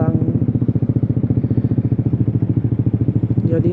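Motorcycle with a big, loud exhaust rumbles steadily close by, a rapid pulsing engine throb running continuously throughout.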